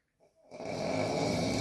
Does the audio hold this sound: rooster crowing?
no